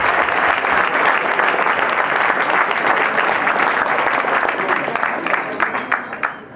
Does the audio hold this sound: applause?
yes